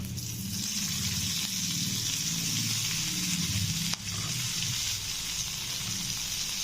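Water spinach and chopped onion frying in hot oil, a steady loud sizzle and hiss running the whole time, with faint clinks of stirring beneath.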